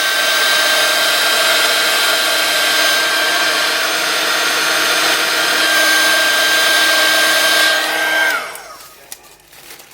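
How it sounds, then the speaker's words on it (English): A torch blowing over freshly poured blue and white striped resin, a loud steady airy roar with a faint whining tone that holds for about eight seconds, then cuts off into quiet handling noises. "I'm just going to give them a little blow with the torch."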